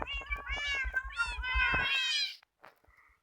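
A cat meows in a video game where monsters are dropped from the Eiffel Tower, a single drawn-out, rising meow up close, followed by a couple of faint short sounds.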